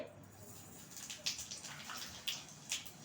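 Cumin seeds hit hot white oil for a Bengali meetha sobji, a faint, soft hiss that flares into a few brief crackling bursts.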